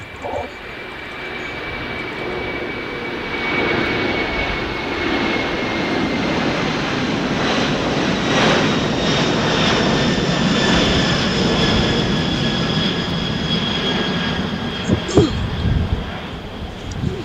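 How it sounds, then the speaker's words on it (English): A Kalitta Air cargo jet departs from the south runways at LAX, a loud sustained roar with whining engine tones that builds and holds steadily throughout, with wind buffeting the microphone. "that was Kaleta Air Cargo departing"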